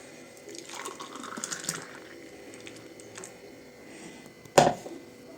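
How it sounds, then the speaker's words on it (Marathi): A thick homemade wheat-bran drink is poured into a glass: a soft, brief liquid gurgle early on, then a quiet pause and a sharp knock near the end. "आता ग्लास भरून घेतो"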